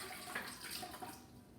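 Warm water pours into yeast in a home kitchen while a challah dough is started, a soft steady splashing trickle, faint and close, with no voices over it.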